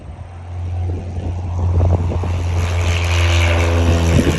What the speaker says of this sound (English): We are full throttle, full mixture there, full throttle, and we are taking off down the runway